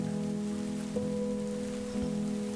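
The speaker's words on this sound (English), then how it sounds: "Some people on the streets are starting to pack up and move off the streets as it is raining." Rain sound effect playing during a Daggerheart tabletop role-playing session: a steady patter of rainfall over a constant low humming drone, with a couple of faint soft bumps and no voices.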